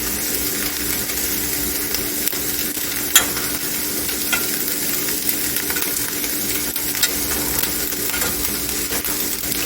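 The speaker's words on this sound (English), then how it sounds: "put cream cheese and stir until melted" Cream cheese being stirred in a hot pan until melted, a steady close sizzle with occasional scraping clicks of the utensil.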